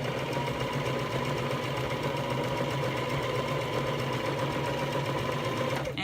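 A sewing machine motor runs flat out at high speed, a steady close whirring drone that holds unbroken for about six seconds, with no talking.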